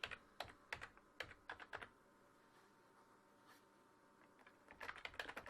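A computer keyboard is typed on in quick clusters of light clicks, with a brief burst at the start and another near the end separated by a quiet gap.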